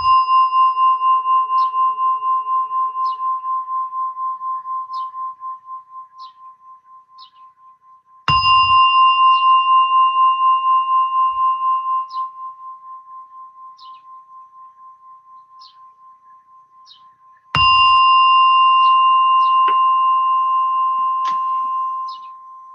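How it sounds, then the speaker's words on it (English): A meditation gong or singing bowl struck three times at long intervals, each strike ringing out clearly and then fading in a slow, pulsing sustain, with no other sound. "as you hear the sound of a gong"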